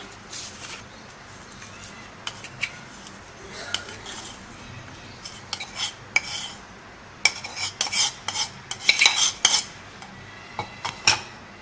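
A spoon scrapes and clinks against a bowl while ground biryani masala is mixed, producing irregular scraping with sharp metallic taps, close and fairly quiet.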